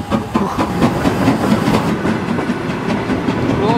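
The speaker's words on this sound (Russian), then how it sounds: "Сейчас будет начинать движение состав." Steam locomotive pulling a train out of a Moscow-area platform, with steady rhythmic clickety-clack of wheels over rail joints and a continuous rumbling roar, fairly close and loud throughout.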